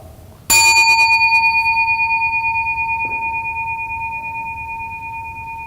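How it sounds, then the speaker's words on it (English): A single bell is struck once, giving a sharp bright strike followed by a long, clear ringing tone that slowly fades over several seconds, close and loud in a quiet room. "raise your hand as soon as you cannot hear the bell"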